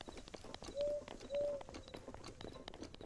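Zelda's horse in Breath of the Wild, soft hooves clip-clopping in an uneven rhythm, faint and fairly distant, with a couple of short tonal game chimes over it.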